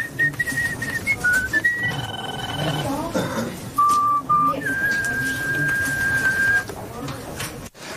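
Someone whistles a few thin, sustained tones with pitch slides, set against a busy background murmur of voices and room noise.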